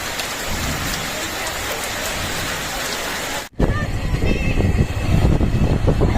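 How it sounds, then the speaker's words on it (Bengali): Heavy rain pours steadily, then cuts abruptly to closer, drumming rain on a surface, with faint voices underneath. "অলরেডি বৃষ্টি শুরু হয়ে গেছে"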